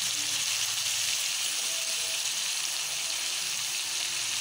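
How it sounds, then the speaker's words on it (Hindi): Green tomatoes with salt and turmeric fry in a pan, giving a soft, continuous sizzle that stays even and fairly quiet throughout. "चलिए मैं फिर से एक बार फ्राई कर लेते हैं।"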